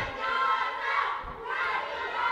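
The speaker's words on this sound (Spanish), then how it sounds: "Hay el grito para el cariñoso, el grito también para Huracán." A gymnasium crowd at a lucha libre wrestling show shouts and chants for the wrestlers in loud rising and falling waves of massed voices.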